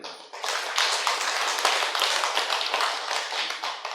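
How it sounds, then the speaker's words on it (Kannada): Audience applause at a live talk: dense, sustained clapping from many hands, loud and steady throughout, starting after a brief quiet moment and continuing without speech. "ನಿಮಗೋಸ್ಕರ ಎಲ್ಲರಿಗೋಸ್ಕರ ಒಂದು ಚಪ್ಪಾಳೆಯನ್ನು ನೋಡಿ"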